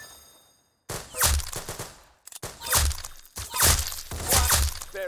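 Rapid bursts of gunfire from the Roblox game Arsenal, several loud volleys with short gaps between them, alongside sharp impact and ding sounds and no talking.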